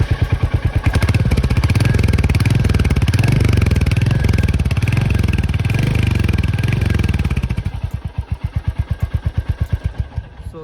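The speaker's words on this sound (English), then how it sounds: "Exhaust note सुनाते हैं आपको" A Royal Enfield Hunter 350 motorcycle idles with a loud, steady thumping exhaust beat, then near the end the revs drop and the thump turns slower and more widely spaced pulses.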